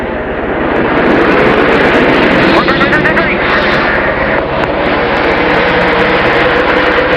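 NASCAR Craftsman trucks roar at the start of the 2001 Kroger 200, a loud, steady wall of engine noise across the whole span with a commentator talking over it.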